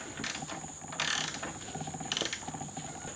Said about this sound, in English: Now we're just going to take our socket and tighten this up.